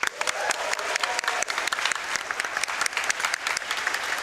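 A large audience claps steadily and loudly for several seconds at a charity speedrunning marathon event, dense sustained applause with no speech over it.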